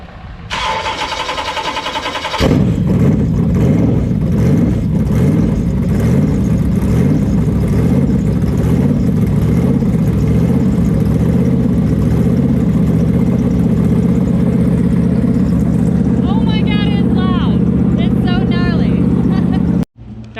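Superlite Coupe SLC engine starts with a sharp loud catch and settles into a steady, close, rumbling idle while the car is moved into a shop, with a brief higher whine near the end.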